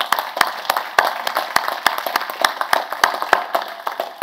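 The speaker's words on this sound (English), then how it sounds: "So if you would join me in applauding their work." An audience at a city's State of the City event claps for city staff, a moderately loud, steady patter of many hands with a few sharper individual claps standing out.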